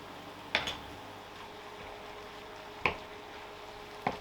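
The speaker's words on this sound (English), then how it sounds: "Give it all a good mix up again" Chicken being stirred with melting garlic and herb cream cheese in a pan for a chicken and mushroom pie filling, giving a few soft, sparse squelches over a quiet background.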